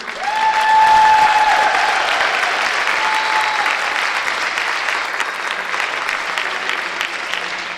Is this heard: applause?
yes